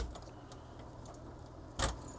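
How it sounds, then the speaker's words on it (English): A bunch of keys jangles once in a short, close burst while doors are being unlocked, following a stretch of quiet background rumble. "Let's see if the keys work."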